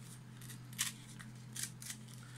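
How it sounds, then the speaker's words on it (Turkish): Scissors cut through paper and card for a paper parrot craft, giving a few short crisp snips spaced apart over a steady low hum, fairly quiet and close. "isterseniz makas yardımıyla isterseniz birkaç defa şu şekilde yaparak bu izi iyice belirginleştirip şöyle de kesebilirsiniz"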